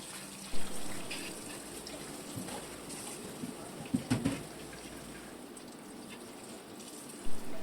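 Running tap water pours over a clay pot being washed clean after scrubbing, a steady gush with a few louder splashes and knocks as the pot is handled.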